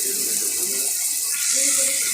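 Water is poured into a pan of browned onion and garlic, a steady hissing splash for the whole stretch, with cooking noise and no voices.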